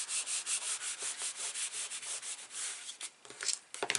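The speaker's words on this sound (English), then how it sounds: "I'm just going to basically start to rub with my hand" A hand rubbing steadily over paper to stick it onto an album cover, giving a close, rhythmic whooshing scrape of even back-and-forth strokes that breaks into a few scattered rustles and taps near the end.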